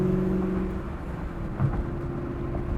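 A 2000 Ford Mustang Cobra R sits idling, a low steady engine rumble with a brief swell, heard alone and fairly close.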